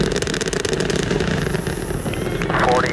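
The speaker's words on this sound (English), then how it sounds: "Challenger now 1 nautical mile in altitude, throttling engines down now to" Space Shuttle Challenger's engines roar during the STS-7 launch, a steady loud broadband rumble filling the whole stretch with only slight swells, heard from a distance without a break.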